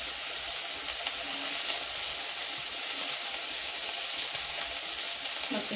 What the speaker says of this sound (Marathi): हिरव्या मिरच्या त्याचं वाटण टाकू। ते थोडंसं परतून घ्यायचं चांगलं।